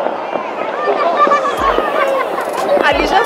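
New Year's fireworks burst over a Portuguese celebration, with sharp pops and low booms at about 1.6 and 3 seconds above a steady hubbub of crowd chatter and nearby voices.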